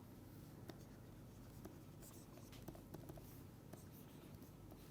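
Writing on a board or paper while noting down a physics constraint, a faint, steady scratch of strokes close by with small tapping accents and no talk.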